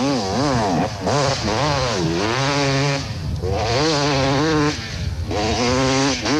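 A 300cc GasGas off-road motorcycle races over sand in a desert rally, its two-stroke engine rising and falling in pitch through repeated revs, loud and close, with no voices.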